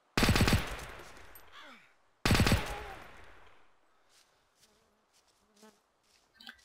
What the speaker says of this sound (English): Let's waste the rest of my magazine so I can reload a new one.